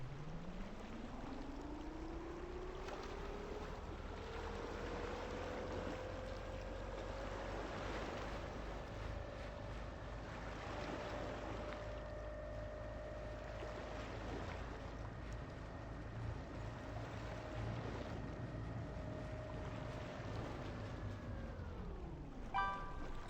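A boat in a game cruises over open sea collecting floating plastic litter, a steady rising engine-like drone with wave and wind wash running continuously, loud and close, ending abruptly.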